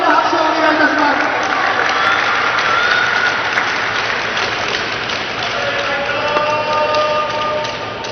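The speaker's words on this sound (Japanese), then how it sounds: "両選手に大きな拍手をお願いいたします。" An arena crowd at a T.League table tennis match in Osaka applauds the players, dense sustained clapping mixed with crowd noise and faint cheering, steady and loud throughout.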